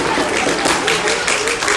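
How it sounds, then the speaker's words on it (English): Applause for children at a Motzai Shabbos Torah learning gathering, brief clapping from a crowd that runs through the short stretch, with a voice talking faintly beneath it. "a round of applause for all of the beautiful children"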